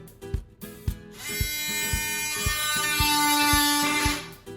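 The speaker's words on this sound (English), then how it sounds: "You got your osculating tool, you're gonna cut these pieces right here." An oscillating multi-tool cuts door trim pieces at a doorway threshold, a loud close buzzing whine that starts after some knocks and runs steadily for about three seconds before stopping.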